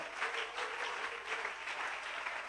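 A church congregation applauding, a steady wash of many hands clapping at moderate distance, sustained and fairly even throughout without talk.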